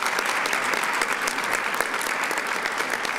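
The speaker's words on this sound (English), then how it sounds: "Let's give her another round of applause as well." A crowd at the 30th annual City of Tampa Black History Celebration applauds after a national anthem performance, a dense, steady clapping that fills the whole stretch without talk.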